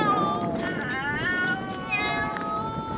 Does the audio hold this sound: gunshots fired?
no